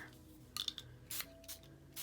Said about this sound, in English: And then I'm going to spray it on my mat here